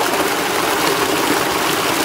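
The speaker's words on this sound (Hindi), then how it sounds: "ट्यूबवेल का पानी ट्राई करता हूँ," Water gushing steadily from a village tube well in rural Pakistan, a continuous close splashing stream with no talk over it.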